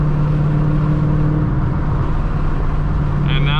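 A car engine fitted with BBK longtube headers drones steadily at a low, even pitch close by, with a brief higher whine near the end.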